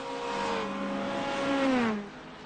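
A GT3 race car engine at Charlotte Roval rises in pitch and then falls away as the car accelerates past. The loud, harmonic whine swells before the upshift drop and is heard alone.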